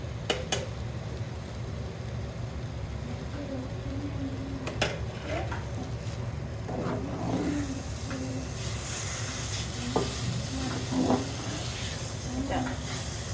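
Thick, sticky carrot halwa cooks in a pan after ghee goes in. A soft continuous sizzle runs under scattered scraping clicks and taps from stirring.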